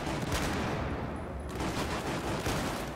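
Sustained loud gunfire from hip firing in Battlefield 4 multiplayer on PS3, a dense continuous burst of shots filling the clip with no pause and no talk.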